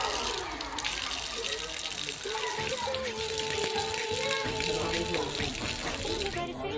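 Tap water runs steadily into a sink as eyes are rinsed of Holi colour, a constant gushing wash with voices and festive chatter mixed in.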